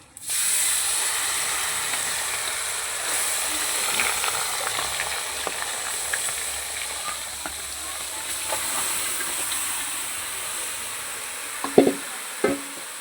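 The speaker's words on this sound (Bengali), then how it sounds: "শুকনো লঙ্কা, এলাচ আর জিরে দিয়ে দেবো। এবার মাখিয়ে রাখা মাংসগুলো দিয়ে দেবো।" Marinated duck meat goes into a hot pan with dried chillies, cardamom and cumin, producing a continuous hissing sizzle with steam and light stirring clicks, a couple of louder knocks near the end, close and without talk.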